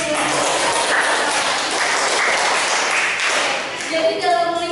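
A classroom group claps together in a dense, steady round of applause for a student's answer, close and loud for several seconds before a voice cuts in at the end.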